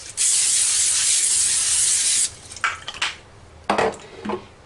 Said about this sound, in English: I am going to give them another just quick spritz with the olive oil